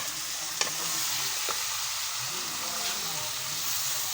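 Meat and potatoes sizzle steadily in a hot pan with bursts of stirring and scraping, a constant close frying hiss with a couple of sharp clanks, voices faintly in the background.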